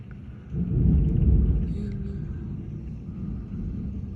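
Thunder during a heavy rainstorm at a house swells into a deep, close rumble after a brief moment, then rolls on at a lower level for several seconds with no talk.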